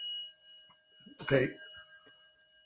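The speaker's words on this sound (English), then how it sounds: "Sorry about the bell." A single bell rings sharply in a room during a talk about the Chinese navy, a loud strike with a ringing decay that fades over a second, with a man's brief speech around it.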